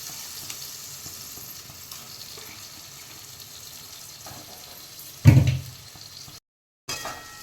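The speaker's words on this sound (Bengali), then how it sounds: "এবার আমি লিভারগুলো দিয়ে দিচ্ছি, মেটেগুলো।" Chicken liver, washed in vinegar and salt, frying in a pan as the base for a dry Bengali kasha, a low steady sizzle that builds into a louder burst and scrape near the end, then a brief dropout.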